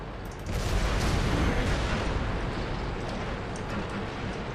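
Tank cannon fire in World of Tanks, a loud sudden boom after a quiet half second, followed by a sustained dense roar of blast and rumble that slowly decays.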